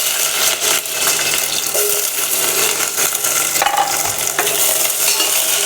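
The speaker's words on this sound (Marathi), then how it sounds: "तेल घातलेलं आहे आणि आता मी घालते ह्याच्यात मिरच्या." Green chilies dropped into hot oil for a tempering in a Goan mushroom dish: a steady close sizzle with stirring and light clinks of a utensil against the pan, with no talking.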